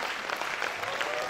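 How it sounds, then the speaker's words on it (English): Brief burst of audience applause at a felicitation function, a dense crowd clapping steadily at moderate volume for just over a second. "Can we have a big round of applause"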